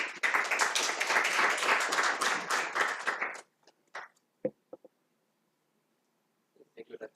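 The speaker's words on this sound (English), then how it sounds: "We need to clap for Daktari." A conference audience applauds, a dense burst of clapping for about three seconds that fades quickly, followed by quiet with a few scattered claps and faint voices.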